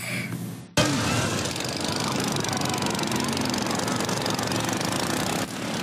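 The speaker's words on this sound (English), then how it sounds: "This is known as the 12-hour lawnmower race." A racing lawnmower engine drones loud and steady from near the start, a rough continuous roar with rattling, knocking texture, running without a break at a 12-hour lawnmower endurance race in the UK.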